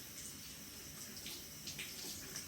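Tap water runs steadily while rinsing after brushing a baby's teeth, a faint, continuous hiss and splash with no voices.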